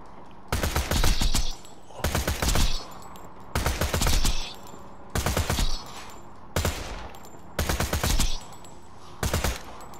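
Rapid automatic gun bursts in Borderlands 2, fired in seven or eight evenly spaced volleys about a second long each, loud and close, with short pauses between them and no talk.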